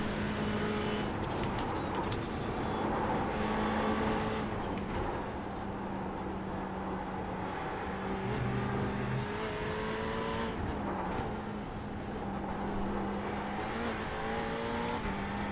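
Race car engine droning steadily at close range during a VLN endurance race at the Nürburgring in winter, its pitch rising and falling through gear changes over about fifteen seconds, with no talk.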